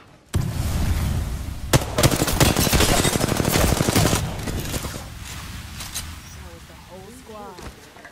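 Rapid automatic gunfire from Apex Legends, loud and close, with dense bursts of shots and a few sharp single cracks, easing toward the end into quieter game sounds.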